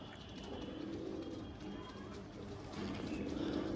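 Pigeons in a fancy-breed collection coo softly and repeatedly in low, rolling calls, close by against a steady background murmur, with the cooing swelling slightly near the end.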